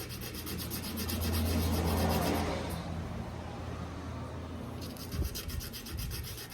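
Hand sanding a Glock 34 grip plug with 220-grit sandpaper, a steady close rubbing and scraping that swells, eases, then continues in shorter strokes.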